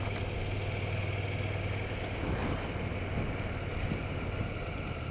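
A KTM 1290 Super Duke GT 2020 V-twin motorcycle cruises at about 30 mph in third gear, giving a low steady engine drone buried under constant wind rush, with no voices.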